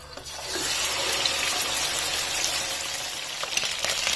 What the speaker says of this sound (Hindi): इस ऑयल में 1/2 kg चिकन डाल देनी है।